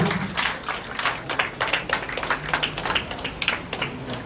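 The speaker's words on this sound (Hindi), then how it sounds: "उनका जोरदार तालियां बजाकर स्वागत अभिनंदन करें" Hearty applause welcomes a Rajya Sabha member at a news channel's foundation day ceremony in Udaipur: a dense, steady patter of many hands clapping close by, unbroken for the whole stretch with no speech.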